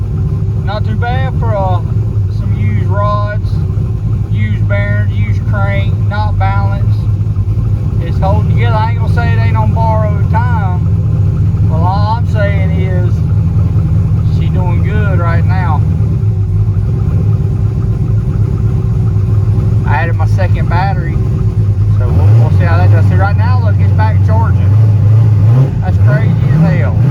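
A turbocharged car engine with used rods, bearings and crank runs steadily in a low, continuous rumble while people talk over it.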